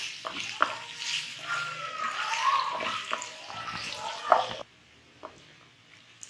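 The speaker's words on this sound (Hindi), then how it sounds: "अब हम इसको ये ऑयल में फ्राई कर लेंगे" Finely chopped onions frying in oil in a pan, a busy crackling sizzle with clinks of stirring, under a woman's speech, ending abruptly into quiet.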